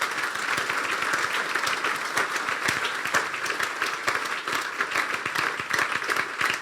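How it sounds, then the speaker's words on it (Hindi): A church congregation applauds during a sermon, dense steady clapping filling the room at close range, with no speech over it. "तालियां बजा दें यीशु के लिए"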